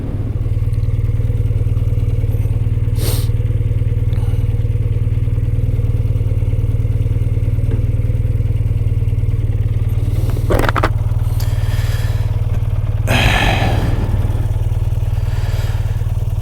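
A 2024 BMW R12 nineT motorcycle engine while riding, a loud, steady low-pitched drone with constant rumble, overlaid by a few brief clattering and scraping noises, no voices.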